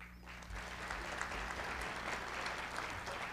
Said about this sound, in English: Could you tell me by clapping your hands, please, how many of you attended our dinner theater performance last year?